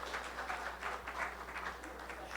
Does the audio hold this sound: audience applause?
yes